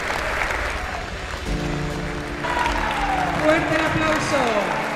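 Applause at an awards ceremony for a Spanish national sports championship in Alicante, a broad crowd clapping under music and a loud voice over the speakers, with the clapping swelling in the second half.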